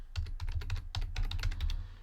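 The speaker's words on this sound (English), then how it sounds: "So I'm typing all this down" Quick, uneven bursts of clicky keystrokes on a computer keyboard, recorded close and fairly quiet, with no voices over the typing.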